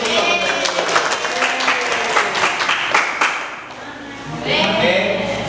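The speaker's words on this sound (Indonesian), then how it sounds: "Tepuk tangan dulu nih." A classroom of students claps for a group about to present, with a dense burst of quick, uneven hand claps that fades after a few seconds before voices and chatter rise again.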